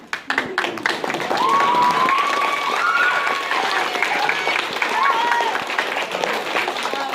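Audience clapping and cheering for students after a high school Cinderella play, a dense sustained wash of applause with some whistles, loud and close, filling the whole stretch after an initial few scattered claps.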